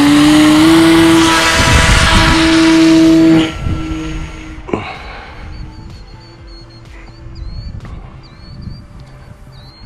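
The small motor of a homemade baseball-bat glider drones loud and steady with a high tone, then cuts away abruptly, leaving faint scattered noises and chirps.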